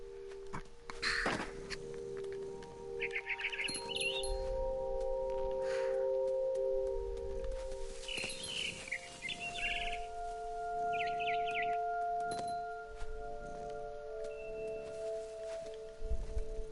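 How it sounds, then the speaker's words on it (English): A barn swallow at its nest chirps in short twittering phrases in What Remains of Edith Finch, scattered across a calm ambient backdrop with sustained tones and a few soft footstep-like thumps. "Then I heard chirping outside my window. It was a barn swallow going back to her nest."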